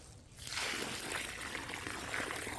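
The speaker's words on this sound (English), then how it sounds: "We're going to next water in the hole." Water pours steadily into a planting hole dug in clay soil for a goji berry (wolfberry) plant, a close, continuous trickling splash that starts after a brief quiet moment and runs without pause.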